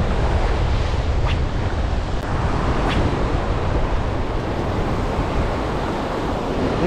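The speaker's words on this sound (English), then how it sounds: "And the waves." Ocean waves break at a fishing spot in Tablas as a constant loud wash of surf mixed with wind noise on the microphone, with no talking.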